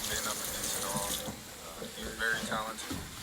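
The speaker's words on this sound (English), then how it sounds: "I had to run some water real quick" Water runs from a tap in a steady, hissing stream at a press conference, with people talking over it throughout.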